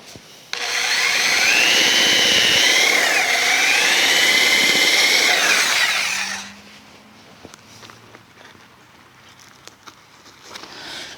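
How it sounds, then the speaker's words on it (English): A Sawzall reciprocating saw cuts through a large tree root during brickwork on a Victorian house, a loud steady motor buzz for about six seconds that stops abruptly, leaving quiet ambience with faint clicks afterward. "let's get the Sawzall over here and take care of that"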